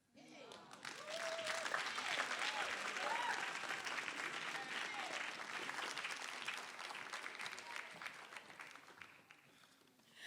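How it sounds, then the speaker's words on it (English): Sustained, dense audience applause for poet Bash at a live poetry event, rising quickly and holding steady for about ten seconds, with some voices and cheers mixed into the crowd. "Another round of applause for Bash."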